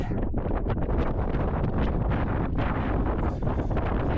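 Heavy wind on Pen y Fan buffets the microphone in a steady, loud roar with gusty surges throughout and no voices.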